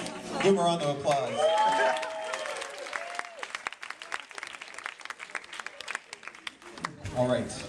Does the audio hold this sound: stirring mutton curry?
no